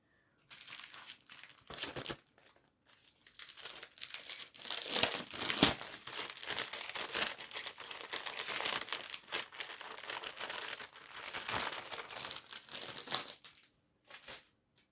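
A vellum envelope being handled while crafting a mini album, with crisp crinkling and rustling in uneven bursts separated by brief pauses, close and fairly quiet.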